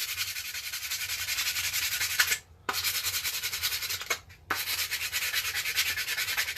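Steady hand sanding of a Nerf gun's plastic shell before painting, a continuous gritty rubbing close up that stops briefly twice, with no talking.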